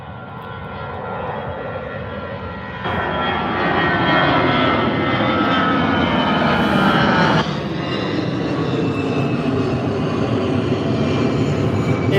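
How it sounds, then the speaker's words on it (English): An EasyJet Airbus A320 at Birmingham airport roars with loud, sustained jet engine noise that rises in power partway through and holds a strong steady whine with shifting tones. "A320 from EasyJet."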